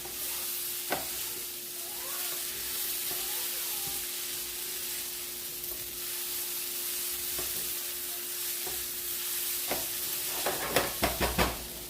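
Broth with bouillon is poured into a pot of yellow rice, giving a steady low sizzle and hiss, with a few sharp clinks and bubbling bursts near the end.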